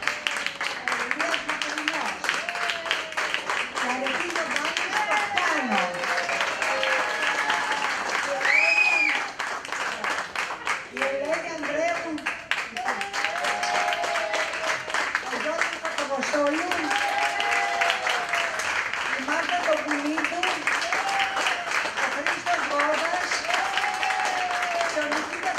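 Audience clapping at a discussion event about Greeks in the Colorado coal war and Ludlow: dense, sustained applause continues throughout, with voices speaking and calling out over it at several points.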